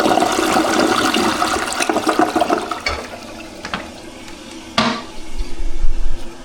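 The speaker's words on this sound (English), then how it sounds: "And you know, to end the video, we gotta do a flush." A Toto Drake toilet delivers its tornado flush as a loud, rushing swirl of water close by, tapering off and then giving way to refill gurgles and a clunk.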